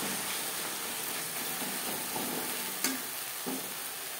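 Spices with salt and turmeric are stirred and fried in a pan for tuna curry, producing a soft continuous sizzle with a few scraping stirs of the utensil, close and quiet, with no talking.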